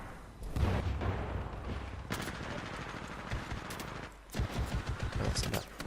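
Rapid automatic machine-gun fire from the video game Titanfall, sustained bursts with a heavy low boom, briefly pausing before resuming, loud and close in a dense gameplay mix.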